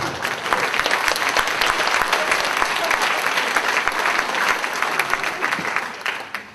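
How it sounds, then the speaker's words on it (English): Audience at a library conference stand-up show breaking into applause, a dense crowd clapping steadily and loudly before tapering off at the end. "Any applause is welcome, by the way."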